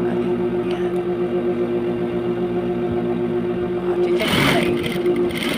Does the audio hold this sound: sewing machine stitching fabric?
yes